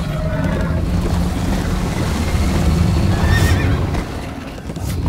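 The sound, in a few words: horse neighing and hooves clip-clopping, from video game Minecraft: Story Mode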